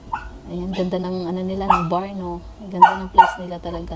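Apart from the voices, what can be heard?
dog barking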